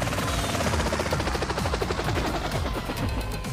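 Hydra jet in GTA San Andreas: a loud, steady engine roar with rapid, repeated bursts of gunfire layered on top throughout.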